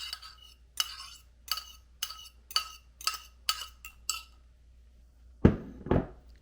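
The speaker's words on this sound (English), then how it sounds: "I'm going to use my fork to just kind of mix everything together" A fork mixing melted butter into crumble in a bowl for a mini apple pie cheesecake: about eight evenly spaced scraping clinks against the bowl, close and quiet, followed by two heavier knocks.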